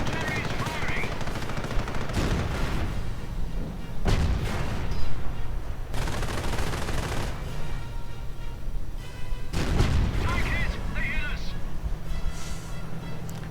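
Heavy tank cannon shots in a video game, with several loud booming blasts spaced seconds apart, each trailing off, while someone talks over the battle.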